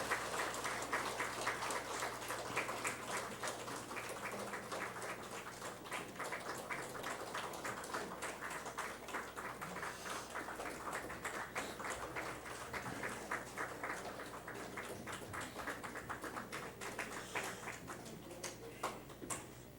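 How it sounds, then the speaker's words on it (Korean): A church congregation claps steadily to welcome the teachers coming forward during a service, a soft, even patter of many hands heard from a distance for the whole stretch. "박수로 환영하도록 하겠습니다."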